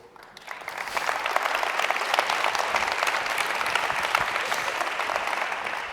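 Steady applause from a large crowd, swelling in the first second and then holding a dense, even patter of clapping with no speech.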